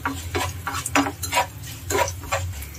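A spoon stirs a poha prasadam mixture in a pan, with repeated scraping strokes at a brisk, irregular rhythm, close and clear over a low background hum.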